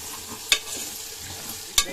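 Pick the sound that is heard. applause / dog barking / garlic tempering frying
garlic tempering frying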